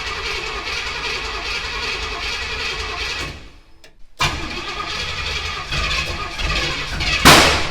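A Chevy Bel Air fitted with a Holley Sniper EFI system cranks and fires, a steady churning rumble that drops out briefly, then catches again and roars louder, with a sharp burst near the end.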